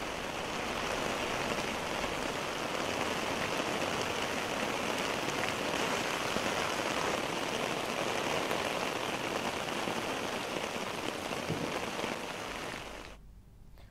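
Heavy monsoon rain pours in a dense, even roar of hiss and splatter that holds steady for a long while, then drops away sharply right at the end.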